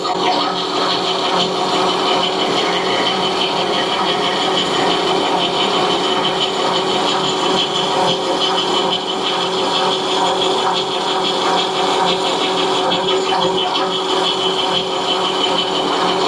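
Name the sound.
metal lathe facing off a part at 500 RPM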